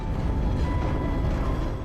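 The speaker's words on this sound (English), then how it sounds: "A train with what appears to be a cannon." In a video game, a train carrying a Dragunov railway cannon rolls along. It gives a dense, steady low rumble that stays loud and constant through the short stretch, with no one talking over it.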